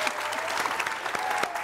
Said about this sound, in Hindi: वाह वाह तालियां होनी चाहिए